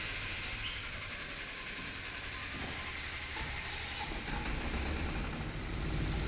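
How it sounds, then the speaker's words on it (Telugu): Kirloskar diesel generator started up and running, a steady loud engine rumble with broadband mechanical noise that swells slightly toward the end, with no talk. "జనరేటర్ ఆన్ చేసి చెక్ చేసి చూద్దాం"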